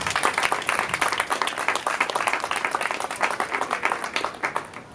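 An audience at a mock trial event applauds a jury member, a sustained, lively round of many hands clapping with distinct individual claps, tapering slightly at the end.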